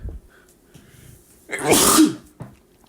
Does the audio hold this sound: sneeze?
yes